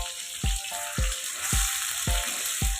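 Turmeric-coated food sizzles steadily in a pan for a quick noodle dish, with six sharp, regular scraping knocks of a spatula stirring it at close range.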